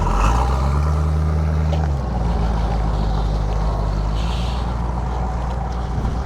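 A candy apple red 1969 Ford Mustang Mach 1 with dual exhaust passes by, a loud steady engine roar that holds a low droning tone at first and then becomes a broad rumble as it goes past, with no talking.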